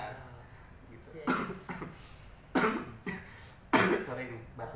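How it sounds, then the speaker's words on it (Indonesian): A person gives about three sharp, loud coughs at intervals during a casual indoor chat, with other voices talking quietly in between. "Sorry nih batuk, bukan corona ya."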